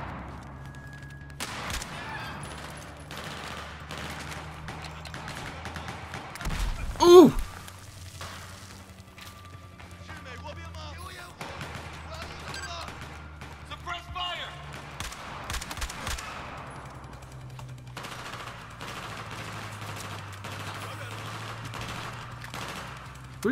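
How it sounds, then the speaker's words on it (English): Scattered gunshots and automatic bursts in Battlefield 4 on the Kunlun Mountains prison map, sharp cracks at varying distances with one louder nearby blast, set against a low ambient rumble and occasional voices. "What are you shooting at?"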